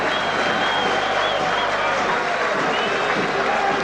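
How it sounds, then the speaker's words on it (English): A football crowd at a 1987 National Soccer League match in Adelaide applauds as sustained, dense clapping and crowd noise, loud and continuous throughout. "Good round of applause from the appreciative Adelaide City fans."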